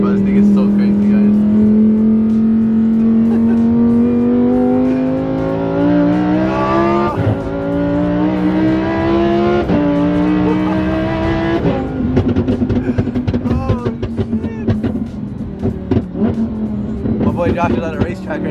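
Loud Lamborghini engine revving hard at a racetrack, its pitch climbing steadily through several gear changes with sharp shifts and crackles, sustained and close throughout the recording.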